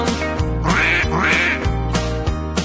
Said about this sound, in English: the ducks go as they waddle under the fence